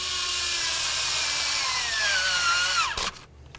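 A power tool whirs steadily while driving a 10mm socket onto EGR valve bolts on a Dodge Journey, its pitch dropping as the bolt bottoms out before the motor cuts off abruptly.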